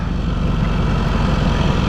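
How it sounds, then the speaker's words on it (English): A motorcycle engine braking as the bike slows, giving a steady, loud, low engine drone with rumbling exhaust and wind noise throughout, no voices. "right now I'm using the engine braking to slow me down"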